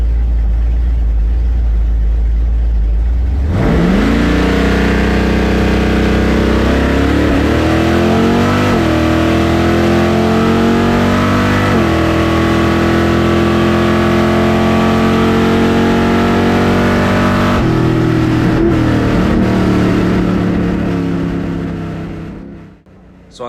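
A supercharged small block Chevy drag car in the nostalgia class fires up and revs hard, the engine note climbing through loud shifting pitches and holding a roaring run before fading out at the end, with no talk.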